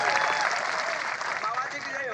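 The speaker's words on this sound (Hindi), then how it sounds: "तो जीतू भाई के लिए जोरदार ताली।" Crowd applause and cheering for Jeetu bhai, newly chosen janpad president, at a community rally in Nalchha: a dense, steady roar of clapping and voices, sustained and fairly loud throughout.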